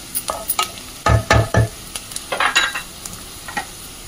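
Red amaranth leaves tossed into frying onions and stirred in a pan: a series of close, sharp scraping and clattering stir strokes over a low sizzle, loud and irregular, with no talking.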